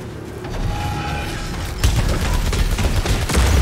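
Gunfire from powerful alien weapons in the video game Returnal rattles in dense bursts with mechanical clanks and booms, getting louder partway through, with no talk over it.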